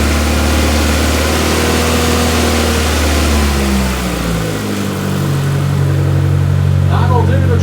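A Proton Wira engine, newly fitted with a fuel pump, runs with its airbox removed, a loud throaty rumble that settles from a higher rev to a steady idle, close by with no pauses.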